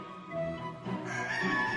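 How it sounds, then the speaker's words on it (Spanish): A live rooster kept inside a Gothic cathedral's henhouse crows, a brief hoarse call that rises and holds, with a hen nearby and some room echo. "la gallina saltó del plato y se puso a cantar"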